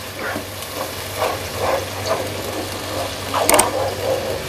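Chopped garlic and ginger crackling in hot oil in a pan for chana dal pulao, a steady close sizzle with scattered pops and scraping clicks, no voices.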